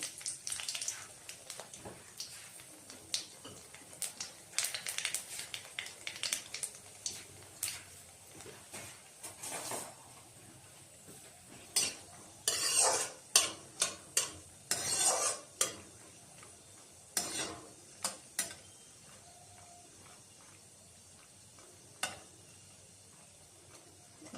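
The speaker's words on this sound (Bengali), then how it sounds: "শুকনো লঙ্কাটা ভাজা হয়ে গিয়েছে" Four dried red chillies and a pinch of nigella seeds fry in oil in a wok, a quiet sizzle punctuated by sharp clinks and scrapes of a utensil stirring against the metal, clustered in bursts.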